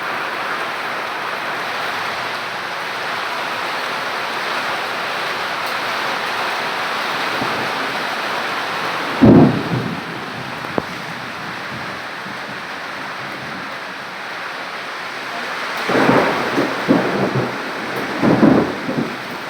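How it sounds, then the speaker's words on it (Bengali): Heavy rain pours down in a steady, dense hiss, and deep thunder rumbles break through: one strong crack and roll near the middle, then more rumbling toward the end. No one speaks. "খুব বৃষ্টি হচ্ছে আর খুব বিদ্যুৎ চমকাচ্ছে।"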